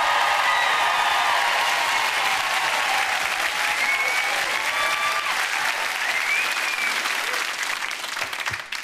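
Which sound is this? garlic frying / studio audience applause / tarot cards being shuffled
studio audience applause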